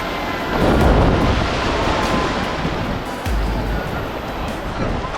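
Surf rolls in steadily on a windy shore at Bakkhali sea beach, a broad continuous wash of breaking waves with gusts buffeting the microphone.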